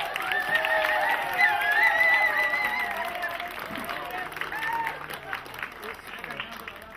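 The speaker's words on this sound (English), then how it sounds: "a big round welcome and applause for Eddie, Big Ed McFadden" An audience welcomes entertainer Big Ed McFadden with applause and cheering, a loud crowd wash that fades gradually, with a voice or tones rising over it early on.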